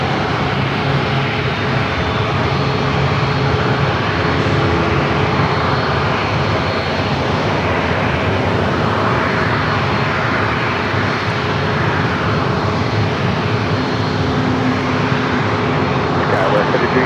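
A Southwest Airlines jet departing San Diego airport for Las Vegas, a loud, continuous engine roar that holds steady throughout, with voices talking over it.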